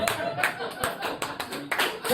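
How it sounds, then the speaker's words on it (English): Scattered audience claps in a comedy-style performance setting, a handful of loose hand claps rather than full applause, moderately close with some background murmur. "That's a clap."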